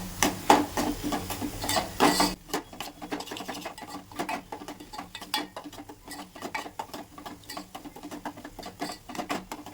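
Masala is sautéed in oil for a pomfret curry, a loud sizzle at first, then a spoon stirring and scraping the pan in quick irregular strokes over a quieter crackle.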